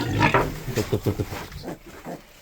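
A farrowing sow grunts and squeals loudly at close range in a pig barn, giving a series of harsh rhythmic bursts that fade toward the end.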